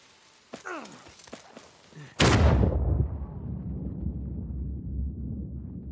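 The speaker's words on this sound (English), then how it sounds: "Hopefully we just blend in with the other explosions." A dynamite blast in the video game Uncharted 4 bursts loudly after brief talk and sounds, then a long rumbling tail that slowly fades.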